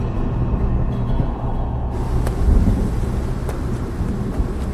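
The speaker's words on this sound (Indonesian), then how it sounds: "Hujan semakin deras" Heavy rain pours down steadily with loud, rolling thunder rumbling through it during a storm on a mountain, a dense continuous roar with no voices.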